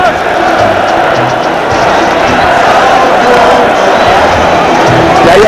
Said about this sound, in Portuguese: E aí a torcida do Corinthians faz a festa